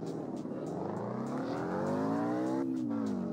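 A Toyota GT86 engine revs up in CarX Street, its tone climbing steadily in pitch, then drops briefly as it shifts and keeps roaring loudly.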